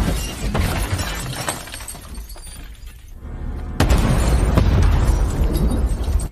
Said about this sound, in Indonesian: menyenggol mobil tersebut hingga membuatnya terbalik dan kemudian meledak